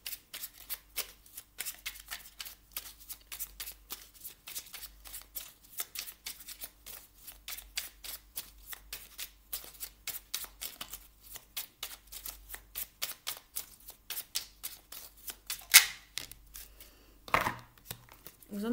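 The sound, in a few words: shuffling and drawing oracle cards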